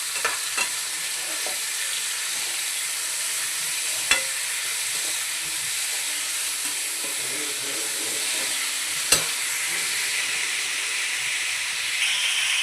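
Tomatoes frying in a curry pan for marrow bajji curry, stirred steadily, give a continuous close sizzle and hiss with occasional sharp spoon-on-pan clinks throughout.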